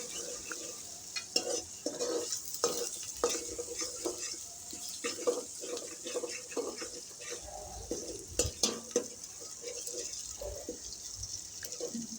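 Onions sizzle in a pan over a steady frying hiss while a spoon scrapes and stirs in repeated short strokes, fairly close, with no voices.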